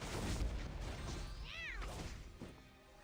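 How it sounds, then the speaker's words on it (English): A stylised cat meow from a video game, a short rising-and-falling harmonic cry heard mid-clip over dense, loud game music and sound effects. "I've never heard that meow before"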